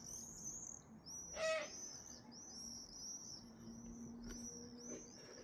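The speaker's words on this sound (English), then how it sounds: "big seagull, big herring gull even" Herring gulls circling low over a house, giving repeated high, drawn-out calls that carry across the whole stretch, with one sharper cry near the middle and a steady low hum underneath.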